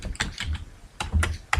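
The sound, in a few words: typing on a computer keyboard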